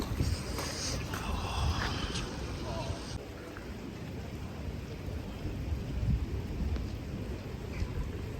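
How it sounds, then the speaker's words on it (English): Steady rain falls outdoors in Amsterdam near Museumplein, a dense continuous hiss with low rumbling, while voices talk intermittently over it. "it's starting to rain again"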